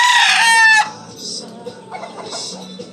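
A white-legged Sweater gamecock broodcock crows loudly and close, one strong harmonic call that cuts off abruptly, followed by softer clucks, rustling and faint farmyard sounds.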